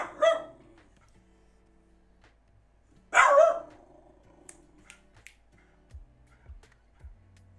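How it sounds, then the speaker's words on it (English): A pet dog barks from the couch indoors: two loud, short bursts of barking several seconds apart, with quiet room tone and a few faint clicks between them. "He's always barking from the couch."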